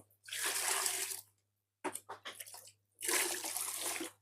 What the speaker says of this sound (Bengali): পানি মোটামুটি কিছু পরিমাণ দিব বেশি দিব না